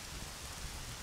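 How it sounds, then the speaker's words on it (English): Rain falls in the video game Zelda Majora's Mask as a soft, steady hiss with low rumbling underneath, faint and continuous throughout. "They're cold from the rain."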